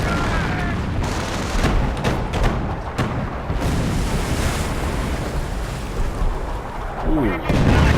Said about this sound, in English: Hearing artillery.